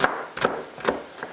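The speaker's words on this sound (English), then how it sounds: "Again, you want to slice this up" A knife slices organic celery on a cutting board, with four crisp chops spaced evenly and close by.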